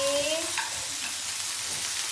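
Sliced eggplant frying for Indonesian sambal terong, a continuous hiss and sizzle of oil in the pan with a scrape of stirring near the start, close and steady with no speech.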